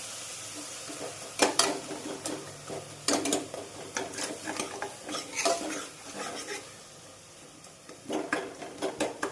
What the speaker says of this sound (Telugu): ఇప్పుడు ఇవన్నీ మ్యాష్ చేసుకున్నట్టుగా గరిటెతో బాగా కలిపెట్టుకోవాలి